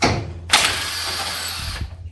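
A power tool whirs steadily for just over a second while bolting a Poison Spyder BFH front bumper onto a Jeep YJ, starting abruptly and stopping with a brief mechanical clatter, close by.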